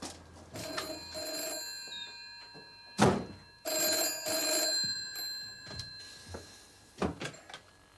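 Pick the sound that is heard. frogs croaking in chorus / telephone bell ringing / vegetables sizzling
telephone bell ringing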